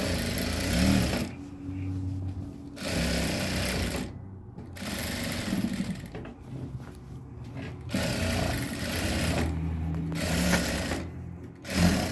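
A sewing machine stitches piping onto a kameez neckline in loud, close bursts of rapid mechanical whirring, stopping and restarting several times with brief pauses between runs.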